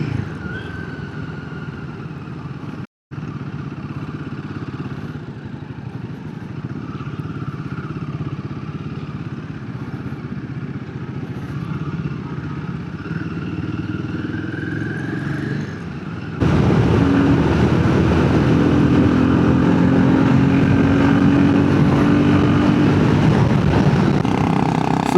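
Motorcycle exhaust on a night group ride, a steady engine drone with a brief dropout near the start, then a louder, fuller rumble and rising whine over the second half.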